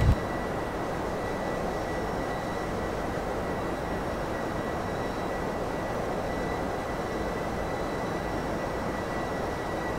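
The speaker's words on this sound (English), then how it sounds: "You get a little bit of jet wash" Steady broadband roar of jet wash and engine noise in the X-Plane 11 flight simulator, during a flight from Bermuda to Atlanta, a continuous even rumble with a faint high whine and no talk.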